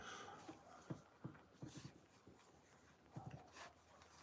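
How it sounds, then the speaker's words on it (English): A dog at night makes soft, scattered panting and whimpering sounds, faint and somewhat distant, in short irregular bursts against a quiet background. "Can you hear that dog?"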